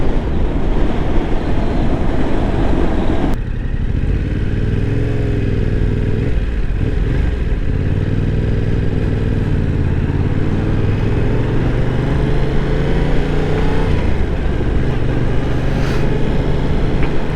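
A Yamaha R7 motorcycle rolling through slow stop-start town traffic, its engine droning steadily up close with rising and falling revs and shifting tone, alongside road and wind noise.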